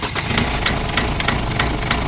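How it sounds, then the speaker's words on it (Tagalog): Ford Wildtrak 2.5 TDCi diesel engine idling roughly, a steady loud rumble with irregular knocking pulses and shaking, close by, no talk. "Okay, engine start."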